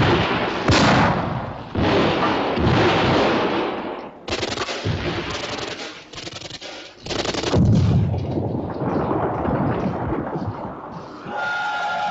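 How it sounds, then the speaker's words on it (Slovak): Grenades exploding across German trenches in a 1972 war film, a dense barrage of loud blasts and rapid gunfire bursts separated by brief gaps, rumbling on without speech. "Granáty ničia nemecké zákopy."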